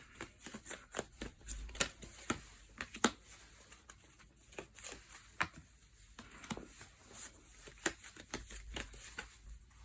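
Tarot cards being shuffled by hand, a steady run of soft papery riffles and slaps with irregular louder snaps, close and quiet with no talking over it.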